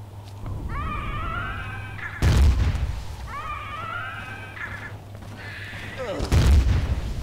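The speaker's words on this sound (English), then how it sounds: "I was hoping that rocket would get that guy" Rocket explosions in the video game Empyrion, two sharp heavy booms a few seconds apart, each bursting loud over a steady low hum, with a warbling electronic tone in between.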